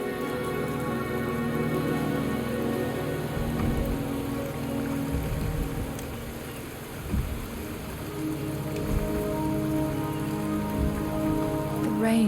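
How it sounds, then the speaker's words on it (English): Rain falling in the Wuthering Waves video game, a steady, moderately loud patter on surfaces with occasional heavier drips and a faint low rumble underneath. "The rain is subsiding, and the sky will soon clear."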